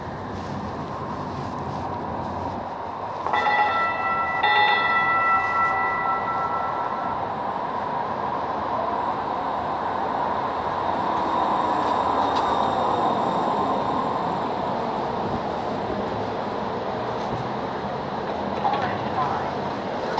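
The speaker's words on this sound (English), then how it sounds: "Here comes my train." Train arriving in downtown Portland on a busy Saturday, a horn-like tone sounding briefly before the rolling rumble and wheel squeal of the approaching cars, with street noise and wind and a person speaking.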